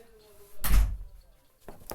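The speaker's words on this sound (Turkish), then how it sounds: "Kapıyı örteceğim." A door is pulled shut in a room, giving one dull, heavy thud with a brief low rumble, then quiet with faint later movement.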